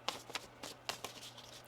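Tarot cards being shuffled by hand, several quick soft riffling bursts close up in a quiet room.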